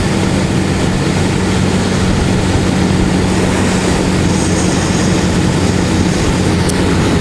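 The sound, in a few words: Suzuki TU250X motorcycle engine while riding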